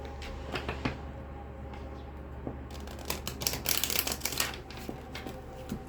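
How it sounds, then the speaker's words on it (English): Crisp riffling and flapping of tarot cards being shuffled close up, building to a dense burst of rapid snaps in the middle, then a few soft taps. "Let me get you some good shuffles in"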